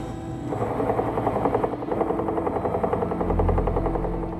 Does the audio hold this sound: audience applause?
no